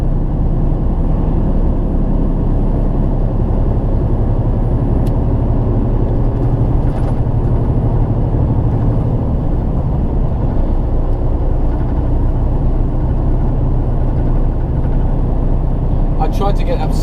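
A truck engine runs steadily while driving, a continuous loud low rumble throughout with no talk over it.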